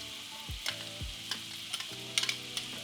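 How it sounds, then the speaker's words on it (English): Minced garlic sautéing in melted butter in a pan over medium heat: a close, quiet sizzle with occasional sharp crackles and pops scattered through it. "I'm cooking the garlic to a light golden brown"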